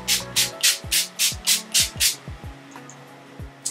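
Wet n Wild Matte Finish setting spray misted onto a made-up face in about nine rapid, close hissing spritzes, followed by a few soft taps and quieter handling noises.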